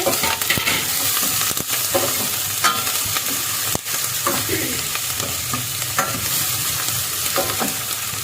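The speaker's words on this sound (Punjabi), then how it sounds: "ਆਪਾਂ ਹੁਣ ਆਪਣੀ ਹਰੀਆਂ ਮਿਰਚਾਂ ਤੇ ਅਦਰਕ ਵੀ ਨਾਲ ਹੀ ਪਾ ਦਵਾਂਗੇ" Green chillies and ginger fry with onions in a pan for a dry potato and pea curry, a loud continuous sizzle with frequent clicks and scrapes of a spoon stirring close by.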